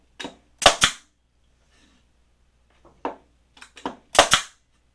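A NeuMaster cordless nailer dry-firing with no nails loaded, heard as sharp, loud mechanical snaps up close, some in quick pairs, spread across several seconds with short quiet pauses between them.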